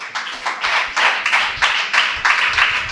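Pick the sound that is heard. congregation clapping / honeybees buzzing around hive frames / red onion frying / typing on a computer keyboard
congregation clapping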